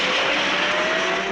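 A car speeds in a dramatic film scene, a dense loud rush of engine and tyre squeal sustained without break over a short moment.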